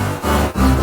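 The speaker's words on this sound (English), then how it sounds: "Like sounds super like warbly and fucked up" A warbly, distorted synth from a beat production, doubled through two echo effects, plays sustained wavering tones in two swelling phrases with a brief dip between, loud and alone.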